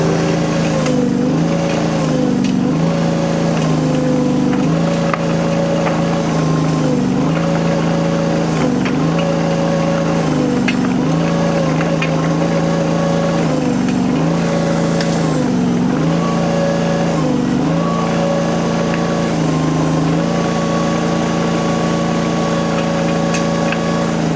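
A cheap Chinese trencher digging in rocky soil runs its engine continuously and loudly, its pitch dipping and recovering again and again under load as the chain bites into the rocks.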